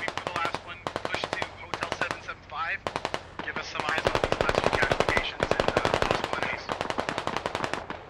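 Rapid bursts of automatic fire from a BTR armored vehicle's gun in the Squad military shooter, long loud strings of shots with short pauses between them, fired through woods.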